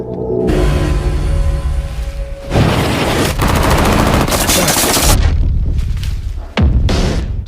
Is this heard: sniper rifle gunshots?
yes